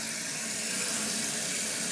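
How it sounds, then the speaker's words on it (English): A porcelain toilet tank in a basement refills from its supply line with a steady, loud rushing hiss of water running continuously without pause. "So we're filling the toilet"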